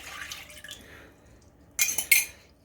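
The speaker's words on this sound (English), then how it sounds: "I'm going to go ahead and pour my orange juice into my pan" Orange juice pours into a pan on the stove: soft liquid trickles and drips at first, then two brighter splashing bursts near the end, close and fairly quiet.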